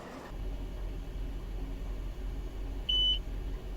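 A short electronic beep signal sounds once near the end, brief and clear over a low rumbling cab hum in Train Simulator 2020.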